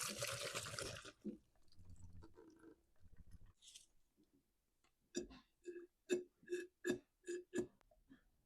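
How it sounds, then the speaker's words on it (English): Fuel sloshes and gurgles inside a Ryobi chainsaw fuel tank as it is rinsed out, with a noisy burst at the start, then scattered knocks and a run of rhythmic liquid glugs and clunks toward the end. "There, that tank's been rinsed out really well, purged very well."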